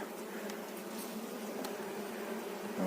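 Dense, continuous buzzing of many honeybees close by in a hive, a steady droning hum with no voices.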